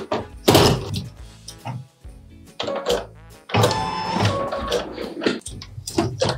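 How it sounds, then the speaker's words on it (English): An embroidery machine stitches a placement line in red thread for a Christmas clock tower mini design, giving bursts of rapid mechanical needle clatter with short pauses between runs, fairly loud and close, with no talking. "we're going to stitch our very first placement line"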